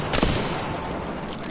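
Gunfire from the video game Apex Legends: a sharp loud shot near the start, followed by a sustained rattle of rapid shots and noisy battle din for the rest of the moment.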